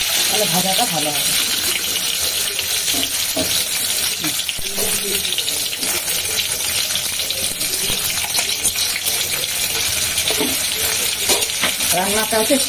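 An egg sizzles steadily in a frying pan in a home kitchen after turmeric is added, with close stirring and scraping throughout, while someone speaks over the cooking noise.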